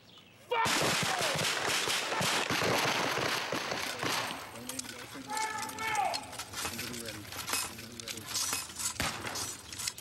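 A loud volley of gunfire from Civil War reenactors at Gettysburg erupts at once after shouted commands, followed by a long crackling, rumbling tail with voices shouting and talking over the fading noise.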